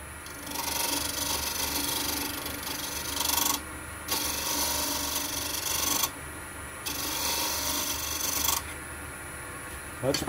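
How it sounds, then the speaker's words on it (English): A steel scraper rasps against a spinning wood-turned piece on a lathe in steady bursts of a few seconds each, with short quiet pauses between passes, close and fairly loud. "Just going to scrape this again."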